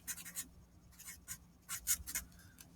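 Pen or pencil writing a final answer on paper, several short bursts of scratchy strokes with brief pauses between them, close and fairly quiet, with no talking.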